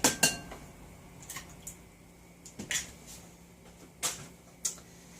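An egg goes into pumpkin bread batter in a bowl, marked by sharp clinks and taps against the bowl at irregular intervals, close and fairly quiet over a faint background hum, with no talking.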